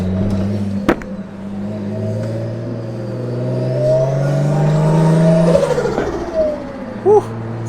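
An RB25DET in a Nissan Stagea revs hard on a dyno, a loud, close, steady climbing engine drone that rises toward a peak around the middle before dropping off, with brief sharp clicks near the start and end.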